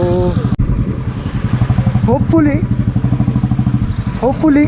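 A motorcycle engine idles steadily through its stock exhaust with a rapid, even exhaust pulse throughout, while someone talks over it nearby.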